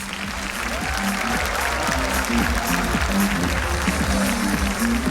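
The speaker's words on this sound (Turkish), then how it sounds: "Sponsorlarımızga büyükten büyük teşekkürler ve alkışlar." Audience applause for sponsors at a Crimean Tatar book fair concert, a continuous crowd clapping wash with low musical tones or hum running underneath, steady and moderately loud.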